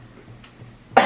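A single sharp cough bursts out near the end after a moment of quiet room noise.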